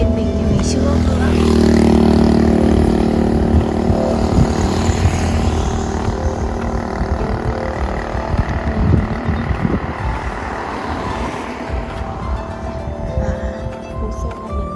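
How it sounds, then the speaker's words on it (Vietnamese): Large cars and motorbikes pass along a road in the Vietnamese countryside, a continuous engine drone and tyre rumble that swells close early on and then eases, with passing hums over it. "Bây giờ thì ô tô to và xe máy lưu thông cũng khá là nhiều"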